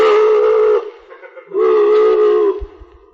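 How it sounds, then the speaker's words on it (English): A mournful boat whistle used as a sound effect in a comedy radio drama, blowing two long, steady, loud horn blasts with a short gap between them and no voices. "Somewhere out in that pea soup, a mournful boat whistle sounded."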